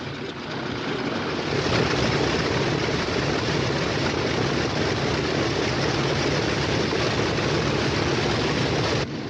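A military aircraft's propeller engines drone loudly and continuously as paratroopers prepare to board, a dense, even roar that swells slightly early on and holds steady to the end.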